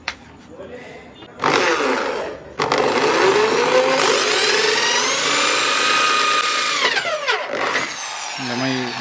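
A power drill bores holes at the corners of a toy house window, probably in wood: a loud sustained whine with a rising pitch sweep, running for several seconds after a short burst, then cutting off.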